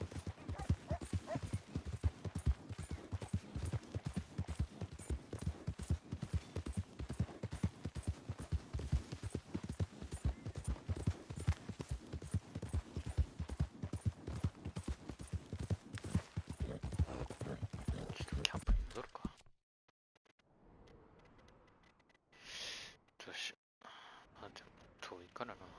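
A horse gallops in the video game Red Dead Redemption 2 with quick, steady, close hoofbeats for nearly twenty seconds. The hoofbeats then stop, leaving faint, sparse sounds.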